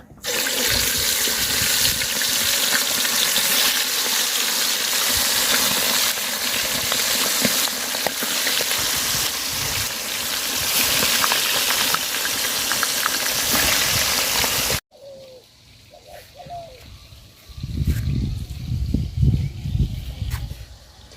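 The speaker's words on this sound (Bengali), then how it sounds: "বেশি করে তেল দিয়ে দিলাম, ডুবায় ডুবায় ভাজবো।" Chicken pieces coated with turmeric and a little salt deep-fry in plenty of hot oil, giving a loud, dense, unbroken hiss. It cuts off abruptly and gives way to quieter low bumps and handling sounds.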